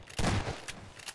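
A single loud gunshot from a weapon in the video game Garry's Mod, a sharp blast followed by a short tail, then a couple of fainter clicks or shots, with no talking.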